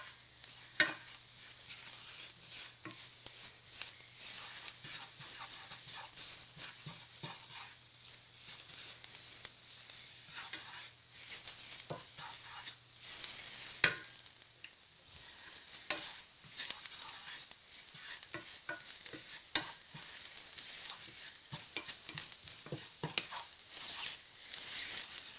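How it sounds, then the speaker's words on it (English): Flour being stirred and cooked in a pan as a roux for beef-broth gravy, a soft continuous scraping and faint sizzle with scattered light clicks of the utensil, steady and close throughout. "we need to cook the flour first before we add the beef broth"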